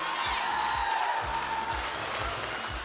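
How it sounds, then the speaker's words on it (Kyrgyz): An audience at a Nur dance ensemble concert applauds steadily, a dense, loud wash of clapping that holds for the whole stretch, with a faint sustained tone running underneath. "Кол чабуулар, Нур би ансамбли."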